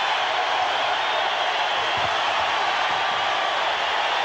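Steady hiss of a basketball arena crowd at the 1988 ISU vs Bradley MVC Tournament championship game, a dense, even roar from many people with no distinct cheers or breaks.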